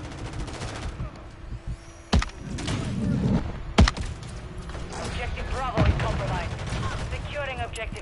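Gunfire in a ranked Call of Duty match, with sharp isolated shots cracking among bursts of in-game noise, voices and effects, while a player talks throughout.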